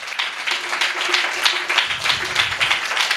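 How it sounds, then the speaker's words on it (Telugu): An audience in a church gathering applauds for the Lord Jesus, a dense, sustained patter of many hands clapping that carries on steadily throughout. "Just give claps to the lord Jesus."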